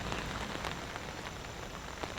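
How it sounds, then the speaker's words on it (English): Rain falls steadily in a soft, even patter on surfaces nearby at a remote mountain campsite, quiet and continuous with no voices. "Sounds like the rain is coming down just a little bit harder."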